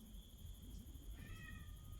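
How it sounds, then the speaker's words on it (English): A pet cat gives a faint, drawn-out meow over a quiet background hum, a single soft cry partway through. "Yes, Sheriff the Cat. Come on up."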